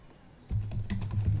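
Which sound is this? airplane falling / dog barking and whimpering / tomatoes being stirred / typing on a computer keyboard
typing on a computer keyboard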